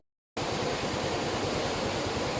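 Strong, steady roar of rushing water at Prenza Dam in Marilao during Typhoon Ulysses, a loud, continuous broadband wash heard close up with no break after a brief silent start.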